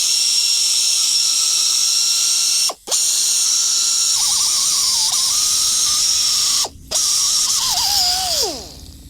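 Angle grinder cleaning up a custom metal bracket for a DRZ400S motorcycle, a loud high continuous whine with two brief cutoffs and pitch dips under load before spinning down at the end.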